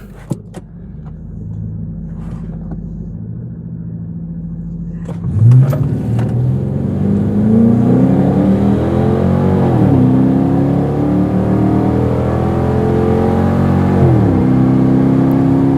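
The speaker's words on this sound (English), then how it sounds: "Felt like a pretty solid launch, didn't spin or anything like that" A Dodge Charger launches at a drag strip, the engine idling low, then roaring hard and climbing through several gear changes, loud and close throughout.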